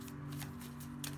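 Quiet shuffling of tarot cards, with soft papery riffles and slaps over a low steady hum.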